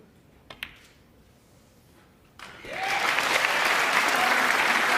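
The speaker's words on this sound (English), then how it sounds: "Big cheer from the crowd because he's taken him into a safe position" A snooker crowd breaks into sustained cheering and loud applause after a couple of faint early taps, the clapping swelling suddenly and holding steady to the end.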